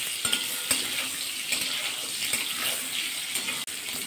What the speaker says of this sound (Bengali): এবার আলুগুলো নাড়াচাড়া করে একটু ভাজা করে নেব।